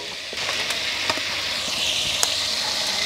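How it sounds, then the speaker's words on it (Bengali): Chicken pieces for a roast sizzle steadily in hot oil, a dense continuous frying hiss with occasional sharp pops and crackles, close and fairly loud, with no talking. "মুরগি ভাজা হচ্ছে রোস্টের জন্য"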